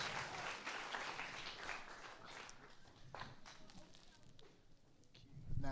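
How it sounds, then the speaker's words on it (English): Audience applause at a documentary screening, a steady wash of clapping that fades a little midway and swells again at the end, with some voices mixed in. "Big round of applause, guys."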